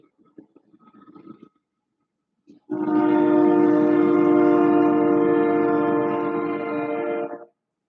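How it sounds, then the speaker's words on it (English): A train horn blares loud and sustained for nearly five seconds, following a quieter stretch of faint low rumbling and brief scattered noises. "train"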